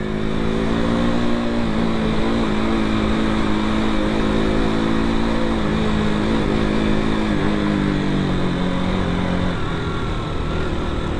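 Steady motorcycle engine drone in early-morning Mumbai traffic, continuous and loud throughout, with slight shifts in engine pitch and no talking.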